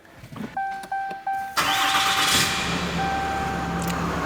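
A few short clicks and chimes, then a Cummins diesel truck engine cranks and catches, settling into a steady, rumbling diesel idle close by.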